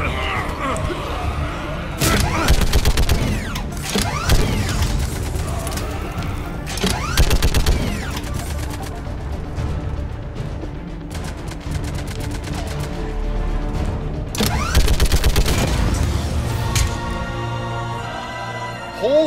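Video game gunfire from Mass Effect 3, repeated rapid bursts of automatic shots in several loud clusters over a steady combat backdrop, with a person talking now and then.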